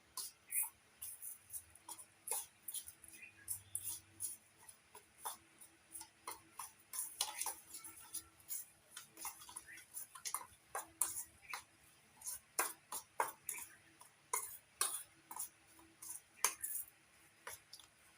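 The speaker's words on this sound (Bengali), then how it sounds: "এবার সব আমি একসঙ্গে ভালো করে মেখে নেব" Raw mango is worked together with sugar and salt in a bowl, producing quiet, irregular clinks and ticks of a utensil against the dish, repeating throughout.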